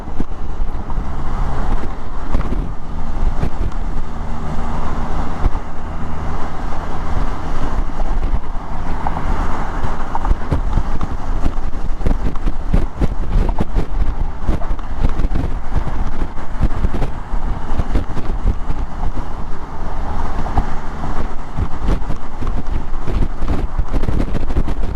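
Heavy wind buffets a rider on a Can-Am Spyder crossing a gusty bridge, a loud, constant roaring rumble with fluttering gusts mixed with road and engine noise, no talking.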